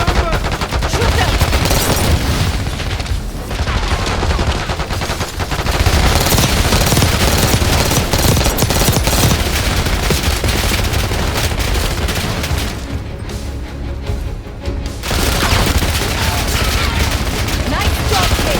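Gunfire in the Call of Duty: Black Ops 6 video game, dense rapid bursts and booming shots layered with game music and effects, loud and continuous throughout with shouted voices in the mix.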